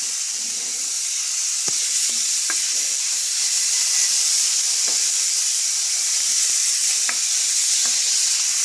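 Ingredients sauté for pancit bato in a hot pan, a loud, steady sizzle and hiss with scattered light clinks and scrapes of a utensil stirring, close up and without voices.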